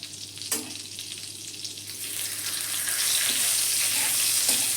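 Butter and bay leaves fry in a pan with a steady sizzle that grows fuller and louder, broken by a few light clinks of a utensil.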